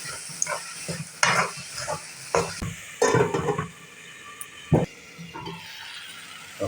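Egg bhurji being stirred and sautéed in a pan, with a steady sizzle broken by repeated scraping strokes of a spoon against the pan, close and fairly loud, with no talk.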